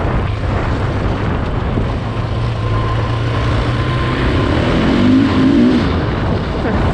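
Motorcycle engine accelerating gradually while riding through open fields, a steady close drone under heavy wind rush, with the engine tone rising toward the end.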